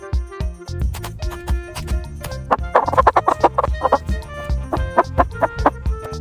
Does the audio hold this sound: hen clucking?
yes